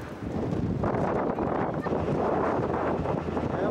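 Wind gusting across an open aqueduct high above a valley on a snowy day, a steady roaring buffet close on the microphone that runs through the whole stretch.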